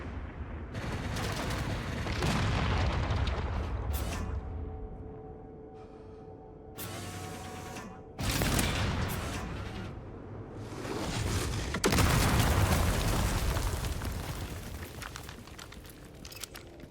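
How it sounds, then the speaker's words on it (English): Enemy gunfire in the game Resident Evil: Requiem: loud, broadband bursts of shots in irregular clusters, some sharp and close, others rolling and sustained, with brief lulls between volleys. "there's one over there still, who's just firing away"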